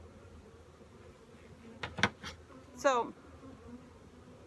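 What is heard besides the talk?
honey bees buzzing around hives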